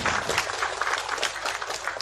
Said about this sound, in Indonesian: Boleh tepuk tangan untuk kita semua yang hadir di tempat ini.